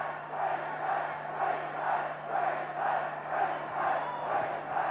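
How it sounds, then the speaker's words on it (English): A large Queensland rugby league crowd at a State of Origin match, chanting and cheering in a steady rhythmic swell that pulses roughly every half second, heard from a distance under a faint broadcast hum. "And the Queensland crowd loving every minute of it."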